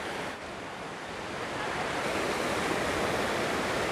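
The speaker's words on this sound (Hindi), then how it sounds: "नर्मदा जी, जो है छोटे छोटे वाटरफॉल बनाती हुई निकलती है जंगलों से" Narmada river tumbling through small forest waterfalls at Amarkantak, a steady broadband rush of water that swells slightly louder midway, with no voices.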